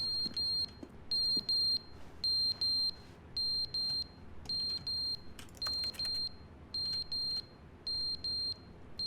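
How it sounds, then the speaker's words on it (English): Fire alarm in the video game The Stanley Parable sounding in a steady pattern of loud repeated high-pitched beeps, about one per second, over a low ambient rumble with no talking. "Thanks, fire alarm."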